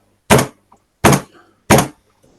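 Three loud, evenly spaced knocks strike a stone wall, each a sharp dull thud followed by silence.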